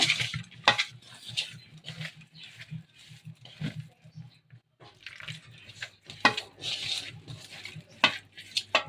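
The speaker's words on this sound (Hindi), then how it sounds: "इसको विनेगर के साथ मिक्स कर लेंगे।" Tandoori chicken marinade being mixed with vinegar in a bowl, wet squelching stirs in uneven bursts with brief pauses, close and fairly quiet.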